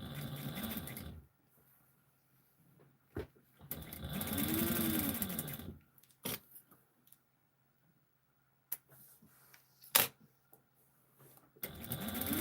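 A sewing machine with compound feed stitches in short runs, a fast whirring buzz that rises and falls for a second or two at a time, broken by quiet pauses and a few sharp clicks.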